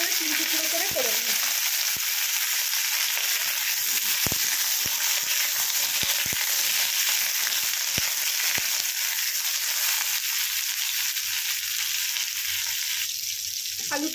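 Long potato strips frying in a pan for a Bengali spinach chorchori, a steady close sizzle of hot oil throughout with scattered sharp ticks and pops of spattering, no talking.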